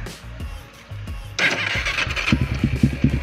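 A Suzuki Megapro motorcycle engine cranks and fires up, then settles into a rumbling, sputtering idle with rhythmic pulses, fairly close.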